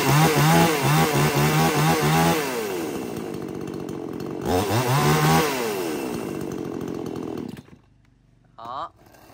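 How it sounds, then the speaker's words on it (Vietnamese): A 54cc chainsaw runs loud and close, its engine revving and droning steadily before dropping to a rough idle and cutting out near the end. "Hàng máy cưa nha anh em nhá."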